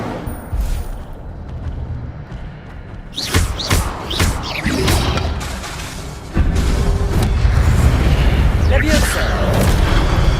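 Incendio fire spell blasts cast in combat in Hogwarts Legacy: a series of sharp booming bursts and thuds, loud and close, followed by a louder sustained roar of fire and action in the latter half.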